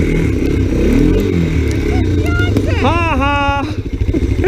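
A Honda XR 100 dirt bike runs through snow, its small engine droning steadily and revving, with laughter and voices over it.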